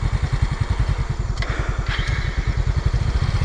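Motorcycle engine idling steadily at a forest campsite, a low rhythmic chug close by with brief clatter over the top and no talk.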